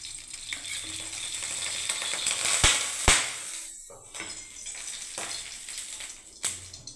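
Vegetable pitha fries in oil in a pan, giving a steady close sizzle broken by a few sharp clacks of a utensil against the pan.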